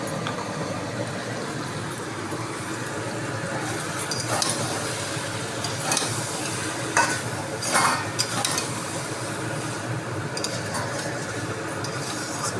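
A ginger, garlic, onion and tomato paste sizzles in a pan for curry gravy with a quiet steady hiss, broken by several clinks and scrapes of stirring against the pan.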